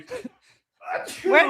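A person sneezes once, then again amid close, breathy vocal sounds, with people chatting casually in a room around it.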